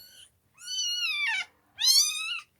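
Young cat, one of a litter of orange kittens and a calico, meowing when picked up: a short mew followed by two loud, drawn-out, rising and falling meows close to the microphone, with no talking.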